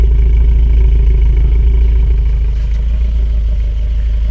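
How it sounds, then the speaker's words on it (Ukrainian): A VAZ 2109 engine runs at a steady idle after a head gasket repair, its exhaust giving a loud, close, purring low rumble with a light metallic rattle through the pulses. "Покажу який вихлоп тут, ви ж чуєте, що воно деренчить там на дисках"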